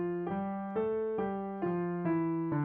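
Piano climbing finger exercise played with both hands together, six evenly spaced note pairs stepping upward in a steady pulse, clean and close with no talking.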